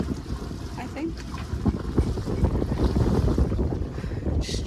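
A sailboat on a broad reach in about 8 knots of wind moves slowly along. Steady rushing wind buffets the microphone and water washes against the hull, loud and close, with some muffled talking underneath.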